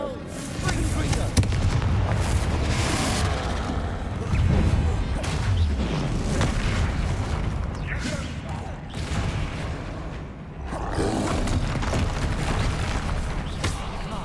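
Spell explosions in the video game Hogwarts Legacy, repeated booms, crashes and whooshes in a dense combat mix, with someone talking over them.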